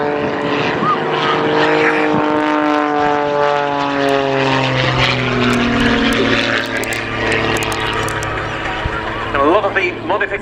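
Pitts Special aerobatic biplane with a highly tuned engine performing torque rolls at an RAF Scampton airshow, its propeller engine droning loudly and continuously with sweeping pitch changes as it climbs and dives, under a commentator's voice.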